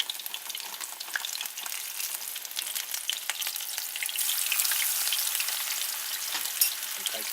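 Breaded okra dropped a little at a time into hot oil in a skillet, a close, crackling sizzle that swells louder midway as more pieces go in, steady and without speech.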